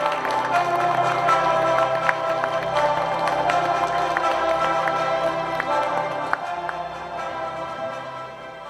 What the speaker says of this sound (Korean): 여러분 큰 박수로 부탁드리겠습니다